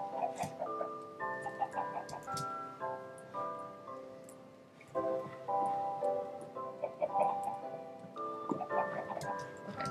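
Chickens in a Minecraft-style video game being herded into a dug pit, with soft clucks and ticks scattered over a steady bed of melodic game music.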